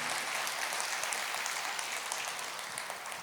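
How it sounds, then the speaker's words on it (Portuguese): A church congregation claps in praise during a worship service, giving a steady, sustained round of applause that stays fairly soft and even for a few seconds. "Pode aplaudir o Senhor"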